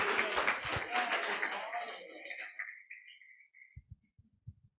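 Applause for the entrants of an informal contest at a dark-skies event, filling the first seconds and fading out, followed by faint scattered thumps.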